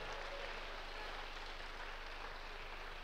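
A church congregation applauding during a sermon, heard as a quiet, steady wash of clapping that runs unbroken for a few seconds with no voices over it.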